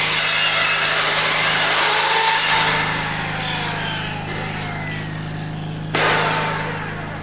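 A power saw cuts through a metal bar at a square 90-degree angle in a workshop, giving a loud sustained whining grind with a steady low motor hum, tailing off and then briefly rising again near the end.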